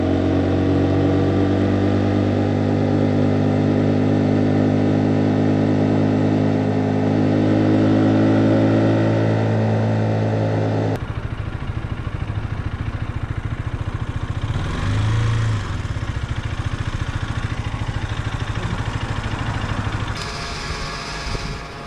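A 125cc KTM RC motorcycle engine drones loudly and steadily while riding, with wind rush and shifts in pitch as the rider changes speed.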